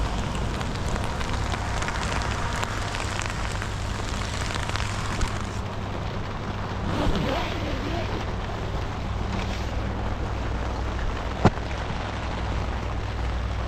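Heavy rain pours steadily onto a tent in Nellore, a dense, unbroken hiss with a low rumble. It stays constant, with one sharp knock near the end.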